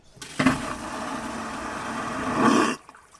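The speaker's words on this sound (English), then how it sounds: "including an airplane toilet flush if I needed it" An airplane toilet flush sound effect: a sudden loud whoosh of rushing water and suction that holds steady for about two seconds, then cuts off abruptly.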